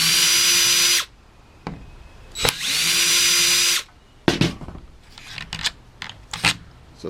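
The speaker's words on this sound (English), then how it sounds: "let's get these screws off the back" A power drill backs screws out of the rear housing of a belt sander in two loud whirring bursts with a pause between, followed by light clicks and rattles of handling.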